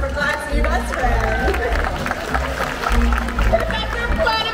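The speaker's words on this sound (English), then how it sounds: "How about a round of applause for Clyde's new best friend?" Audience at the SeaWorld San Diego sea lion and otter show applauds, a broad crowd roar of clapping and cheering over low rumbling noise, sustained and fairly loud with scattered voices mixed in.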